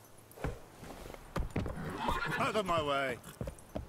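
Hooves of Geralt's horse Roach in The Witcher 3 video game clop in loud, irregular strikes close by, with a drawn-out whinny midway and a voice calling out over the hoofbeats.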